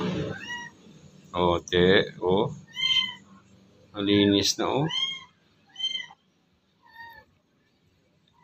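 A rescued pet cat that has just been bottle-fed milk meows several times, short rising calls in a quiet room, alternating with close conversational speech.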